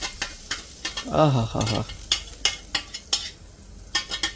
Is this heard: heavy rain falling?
no